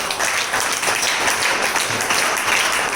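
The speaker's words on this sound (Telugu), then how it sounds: "దేవుడు చేసిన కార్యం కొరకు గట్టి చప్పట్లు కొడదాం" Church congregation at Karuna prayer hall in Piduguralla breaks into hearty applause, a thick, even wash of many hands clapping at once, loud and sustained for a few seconds with no speech over it.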